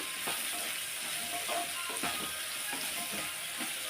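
Tomato pieces frying in a pan for a bottle gourd chutney, a continuous close sizzle with a few soft stirring knocks.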